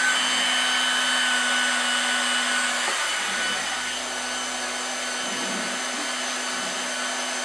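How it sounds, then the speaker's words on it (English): A hot air welder heating up for an HDPE fabric repair blows with a steady, loud whirring hiss that eases slightly partway through and then holds even, with no voices. "Turn the heat back on in our welder."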